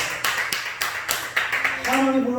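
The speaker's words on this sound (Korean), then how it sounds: "박수." Church congregation applauding during a Friday night prayer service, a run of uneven claps and taps for a couple of seconds, with a voice speaking over the end.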